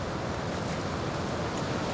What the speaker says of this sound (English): look how many trees is caught up on the rocks, and the power of the water going over the far side there